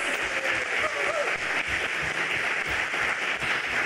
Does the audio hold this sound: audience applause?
yes